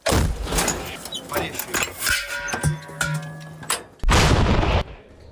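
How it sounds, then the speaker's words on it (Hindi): Artillery fire in Russia–Ukraine war footage: several heavy booming blasts with sharp onsets and rumbling tails, close and loud, with a shouted voice among them. "Выстрел!"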